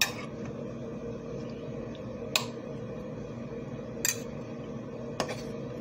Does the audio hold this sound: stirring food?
yes